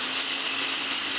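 A kitchen blender grinding a chipotle-style chicken marinade thinned with half a cup of water, a steady high whirring roar with a constant hum underneath, close and unbroken.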